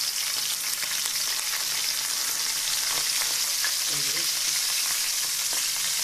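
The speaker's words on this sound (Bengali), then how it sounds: "আমি সরিষার তেল দিয়ে দিয়েছি, তেলটা গরম হচ্ছে।" Mustard oil heating in a pan before potatoes are fried for a cabbage ghonto, giving a constant dense sizzle and hiss that stays even and close throughout, with no voices.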